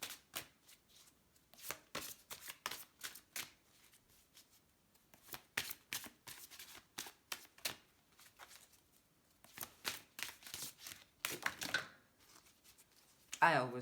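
Witch's Oracle cards are shuffled by hand in repeated quick riffling bursts separated by short pauses, crisp and close, while a voice speaks softly between them.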